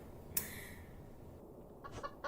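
A hen in the video game Evil Nun gives a few clucks, a sharp squawk early and then softer clucks near the end over quiet background noise.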